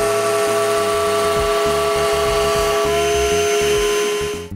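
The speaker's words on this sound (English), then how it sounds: "This time, I can make several passes on the router table." Router table cutting a stub dado into a wooden shelf: a high, steady motor whine carries throughout, with choppy low-end cutting noise as the workpiece is fed, then it stops abruptly at the end.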